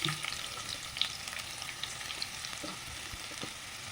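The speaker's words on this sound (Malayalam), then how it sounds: "ഇത് നമുക്ക് നന്നായിട്ടൊന്ന് ഫ്രൈ ചെയ്തെടുക്കണം" Chopped onions fry in coconut oil in a pan, a close, even sizzle with faint crackles and light stirring scrapes throughout, no one speaking.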